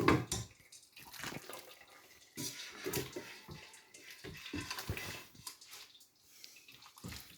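Chicken stock pouring from a pot through a colander into a bowl, an uneven splashing trickle with stops and restarts, close and fairly quiet.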